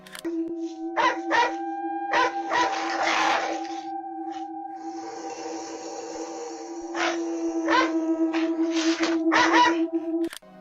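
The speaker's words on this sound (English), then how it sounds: "a brave dog barks fiercely" A dog barks repeatedly at night near a sheep shed, sharp bursts in uneven clusters over a constant electronic hum, with a drawn-out howl-like cry in the middle.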